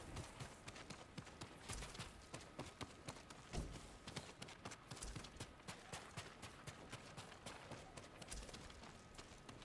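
Horse hooves gallop steadily in Ghost of Tsushima, a quick repeated clip-clop running through the whole stretch amid busy game sound.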